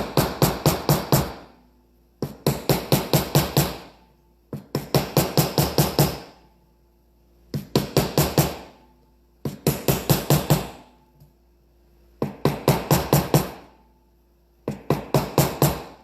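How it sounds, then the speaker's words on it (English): Rapid bursts of a mallet pounding metal into a form to shape a cuff, repeated in regular groups with short pauses between them, loud and close. "I've only tried it with a mallet, but look what's starting to happen."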